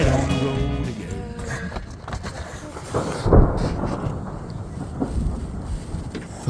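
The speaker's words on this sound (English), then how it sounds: "It's thunder and lightning in Siknäs." Thunder rolls across a stormy sky during a hike near Abisko, Sweden: a loud, continuous low rumble with surging peaks and a heavy crack midway, mixed with rain-like hiss.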